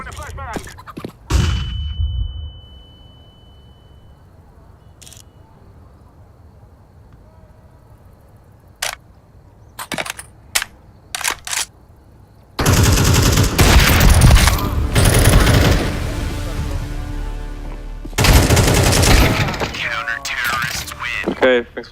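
Counter-Strike 2 gunfire and grenade blasts during a match: scattered sharp shots and clicks early, then two long dense bursts of loud rapid firing and explosions near the end.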